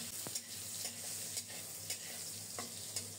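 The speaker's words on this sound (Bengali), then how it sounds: "বেগুনটাকেও লাল লাল করে ভেজে নেব।" Eggplant slices fry in a pan with salt and turmeric, giving a steady soft sizzle and crackle, with occasional light scrapes of stirring, close and without talk.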